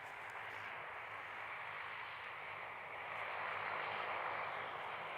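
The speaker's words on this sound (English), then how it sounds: "Captain San, this is a Q300" A Dash 8 Q300 turboprop aircraft at an airport, its steady broadband engine roar sustained throughout and swelling slightly louder in the second half, with no talk over it.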